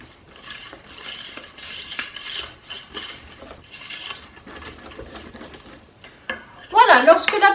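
Whisking birthday cake batter with yeast mixed in, a basic children's sponge cake, gives a steady run of scraping, rubbing strokes against the bowl, followed by a brighter clatter near the end.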